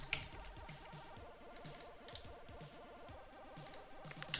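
Rapid clicking of keys on a computer keyboard while a folder name is typed, with quick irregular keystrokes close by, over a steady low background hum.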